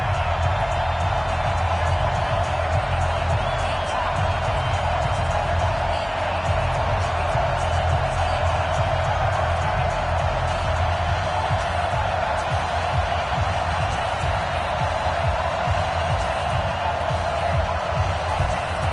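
A stadium crowd roars steadily in a PS4 American football game before a Dolphins home game against the Ravens, a loud sustained wash of cheering with no clear breaks and a faint commentary voice underneath.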